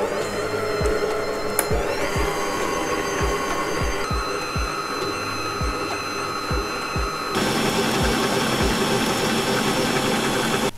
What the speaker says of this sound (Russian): И снова все это хорошо взбиваем миксером.